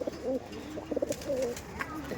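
Giribaz pigeons coo softly in a loft, several short throaty calls in quick succession, fairly close and quiet.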